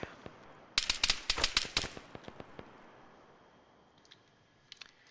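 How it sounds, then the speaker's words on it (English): A burst of rifle fire in a military video game, about eight sharp cracks in rapid succession, then scattered fainter shots and clicks trailing off into quiet. "Ran low on ammo, so I'm gonna try to pick him off with a rifle. Blind fire."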